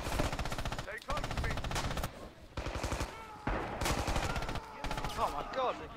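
Rapid bursts of gunfire from a western-themed video game, Heroes of the West, rattle loudly and almost continuously in several volleys, with short gaps between the barrages.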